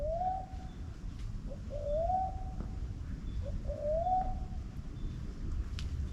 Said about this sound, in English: That is the first time I've heard that bird on this hike so far.